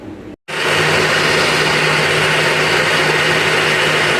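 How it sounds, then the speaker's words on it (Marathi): A mixer grinder whirs loud and close as it grinds soaked ingredients into a paste for a fish halwa rassa; it starts after a brief pause and runs as a constant motor drone with a low hum. "आता आपण हे मिक्सरमध्ये बारीक करून घेऊया"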